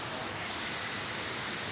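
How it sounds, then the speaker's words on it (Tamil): Heavy rain falls in a garden with roses, making a dense, even hiss that stays steady and close for the whole short stretch, with no other sounds standing out. "நல்ல மழை பெய்யுது."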